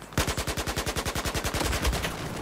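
Sustained automatic fire from an AK-12 rifle in the Battlefield 4 video game, a close, loud burst of rapid, evenly spaced shots lasting about two seconds with no voices.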